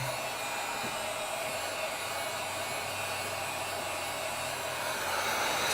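A hair dryer heating an iPad 9th-generation screen to loosen the adhesive runs as a steady, loud, close-up whoosh and hum, unbroken throughout with no talking.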